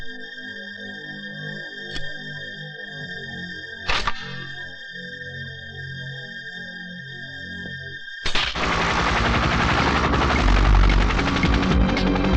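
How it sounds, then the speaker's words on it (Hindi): Rotor noise from a helicopter comes in suddenly and stays loud and dense, after a quieter stretch of beeping tones and a couple of sharp clicks. "हेलीकॉप्टर में आ रहा है।"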